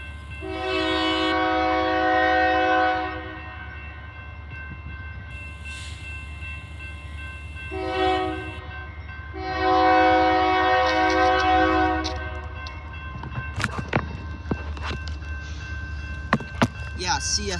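A CSX freight train carrying stacked containers rolls past in Plymouth, Michigan, sounding loud, drawn-out horn blasts in several separate bursts, followed by clanking and rumbling railcars close by.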